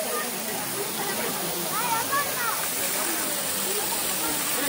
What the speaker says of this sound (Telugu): ఆ నీటి జల్లు ఇక్కడ వరకే వచ్చి పడుతుంది